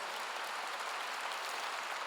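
A church congregation at a Korean service claps together in a steady, dense wash of applause that holds evenly throughout.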